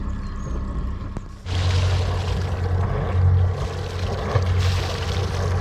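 A boat's engine runs with water-cooled exhaust while relaunching on the river at Totnes, giving a steady, loud rumble and a broad, splashing wash of water that grows after a brief quieter start.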